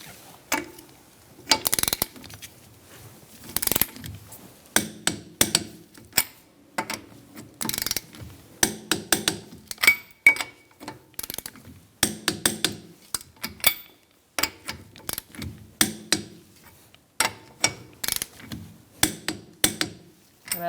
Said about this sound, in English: we're going to torque our wheel to 80 foot-pounds